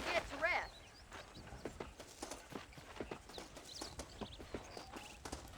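Horse hooves in the western video game Red Dead Redemption clop at a steady walking rhythm, moderately close, alongside brief bird calls and a person talking.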